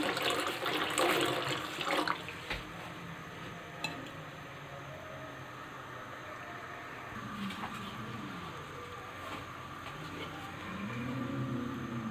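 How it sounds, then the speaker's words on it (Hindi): A glass of water runs steadily into a pot of milk on the stove, a continuous splashing pour that settles into a softer trickle, heard up close with no talking. "इसमें 1 गिलास पानी का ऐड करेंगे।"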